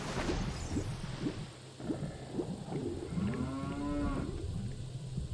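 A cow in Zelda Ocarina of Time Master Quest lets out a long, low moo, a garbled video-game lowing that swells in the second half over a rumbling, pulsing game backdrop.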